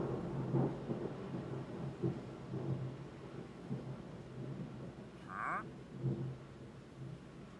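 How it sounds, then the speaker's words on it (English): Thunder rolls as a low, soft distant rumble after a lightning flash, mixed with frog croaks pulsing repeatedly nearby and a brief chirp partway through. "That thunder wasn't quite as loud as I expected."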